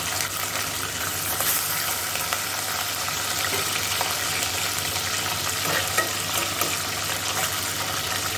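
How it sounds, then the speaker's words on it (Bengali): Vetki fish frying in hot oil with only a little salt, giving a continuous, dense sizzle that stays steady and close throughout, with faint occasional stirring beneath. "শুধু একটুখানি নুন দিয়ে আমি মাছটাকে ভেজে নেব"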